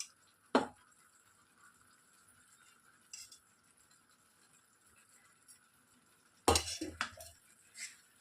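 Spoon stirring ghee into boondi in a pan for motichur ladoo, sparse metallic scrapes and clinks, one sharp knock early and a cluster of clatter near the end over near silence.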